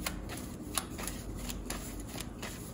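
A deck of tarot cards is shuffled in a steady run of soft riffling flutters with small taps at intervals, close to the mic and fairly quiet, with no talking.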